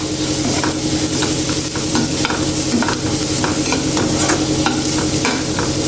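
Spinach for thoran sautéing in a pan with turmeric powder, a steady close sizzle under rhythmic scrapes of the stirring spoon, repeating about every half second throughout.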